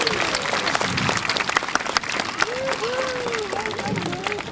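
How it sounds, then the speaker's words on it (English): Outdoor crowd applauding steadily at a birds of prey flying display at Warwick Castle, sustained clapping throughout with a few thin whistled or bird-like tones rising and falling over it. "let's give him a big round of applause"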